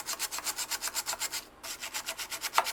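Rapid back-and-forth scrubbing of sockets on a printed circuit board cleaned with Fantastik spray, a close, steady rhythmic rubbing of bristles that pauses briefly midway before resuming at the same brisk pace.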